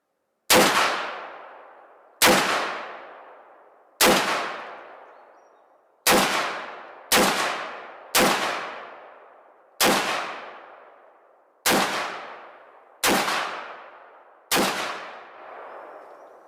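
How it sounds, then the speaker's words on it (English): Ten loud, sharp semi-automatic gunshots from an AR-15 pistol with a 300 Blackout upper, fired at a steady, slightly uneven pace about every one to two seconds, each crack trailing off into a short decay, with no talking. "300 Blackout function test. Semi-automatic 10 rounds"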